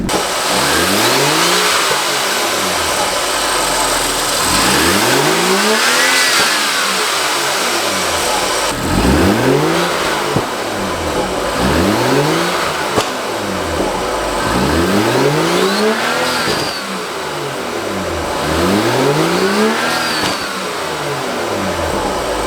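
A BMW engine fitted with a new cold air intake revs repeatedly from idle, each rise and fall of pitch clearly heard close up, about seven loud revs in a steady rhythm.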